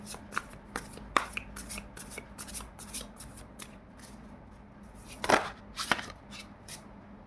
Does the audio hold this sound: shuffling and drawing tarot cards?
yes